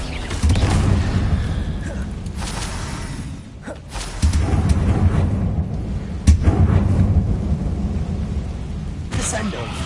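Explosive spell blasts in the video game Hogwarts Legacy, deep rumbling booms and crackling bursts layered over continuous loud combat noise, with a shouted voice at times.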